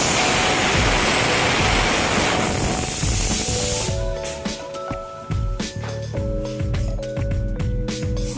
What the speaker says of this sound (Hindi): मैं सरसों तेल में थोड़ी सी मेथी डाल दी हूँ